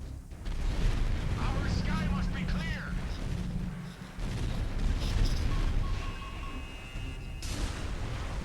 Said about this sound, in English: he just keeps space striking my base